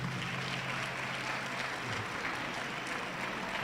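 Audience at a certificate handover ceremony claps in a continuous, even burst of applause, a dense wash of many hands at moderate distance filling the room without pause.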